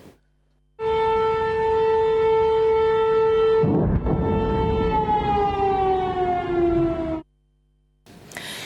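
Air raid sirens wailing in Nikopol district, Ukraine, a loud sustained tone that starts abruptly, holds for several seconds with a slight falling pitch near the end, then cuts off.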